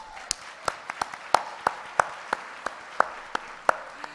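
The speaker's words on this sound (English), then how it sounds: "Give yourself a hand of applause." Sparse applause at a recognition lunch for women of colour in STEM: a handful of separate, crisp hand claps in an uneven rhythm, close and distinct rather than a full crowd roar, with no talking over them.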